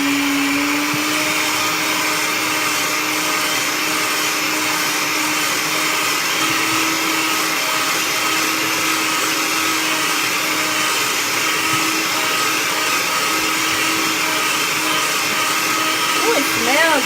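A countertop blender whirs without a break for around seventeen seconds, mixing ingredients with fresh lemon juice in a home kitchen, its loud, steady motor whine briefly shifting pitch near the end.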